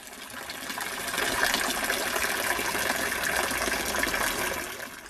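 Water pours steadily and loudly into the basin of an old village wash fountain, a continuous broad splashing gush with no voices.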